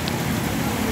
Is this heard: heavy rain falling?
yes